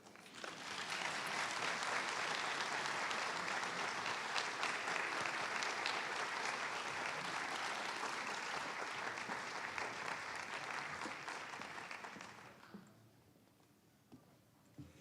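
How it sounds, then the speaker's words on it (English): A large audience at a Martin Luther King Jr. Day celebration applauds in a dense, sustained roar of clapping that holds for about twelve seconds, then quickly dies away to near silence with a few stray claps. "Give her another round of applause, please."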